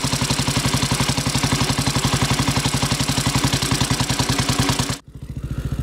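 A 1927 Sunbeam Model 6 motorcycle engine runs at a steady, loud, close idle with an even thumping beat, briefly dipping near the end before picking back up.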